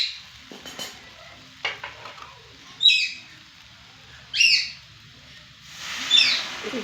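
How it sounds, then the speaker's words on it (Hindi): Milk poured into roasting semolina halwa sets off bursts of loud hissing sizzle, several surges that rise and fade, up close alongside faint stirring scrapes and no talking. "अब इसी में मैं दूध डालूंगी।"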